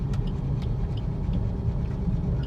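A car engine hums steadily while the car drives and gathers speed on a road, with a low, even rumble and no talking.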